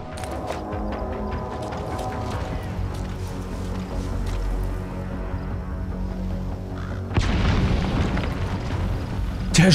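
An explosion in Metal Gear Solid V: The Phantom Pain blows up a horse, a loud booming burst over busy game sounds and music, followed by a sharp rise in noise toward the end.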